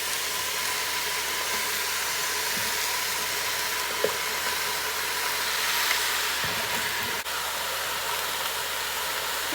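Chicken pieces sear in a pot for a one-pot chicken soup, producing a steady, loud broadband sizzle and hiss that holds evenly, broken by a few faint clinks.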